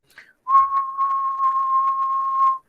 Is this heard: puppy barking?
no